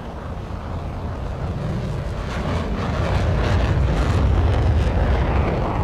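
A MiG-23 jet in War Thunder with its afterburner kicking in: a dense, rumbling engine roar that swells louder over a few seconds and stays powerful, with no talking over it.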